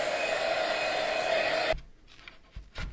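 A hair dryer blows steadily and loudly to dry Dixie Belle Muscadine Wine paint on a Valentine stencil craft, then cuts off abruptly, followed by a few soft handling knocks.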